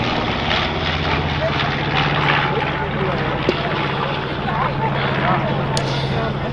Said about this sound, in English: This aircraft is from Salzburg, Austria, from the Flying Bulls Museum.